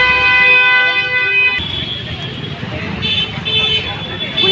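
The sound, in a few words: vehicle horns honking in traffic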